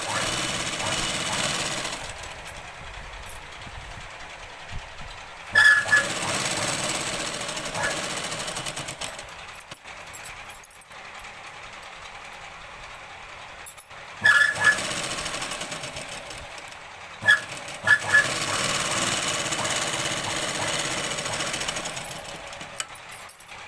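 A sewing machine stitching Punjabi dress pants runs in long steady bursts, loud and close, pausing briefly between runs with a few short knocks as the fabric is adjusted; a voice talks over it.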